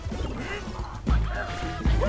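Cartoonish goose quacks from a Donkey Kong Country: Tropical Freeze level, a few short honking calls bursting over busy game music with thumping impacts.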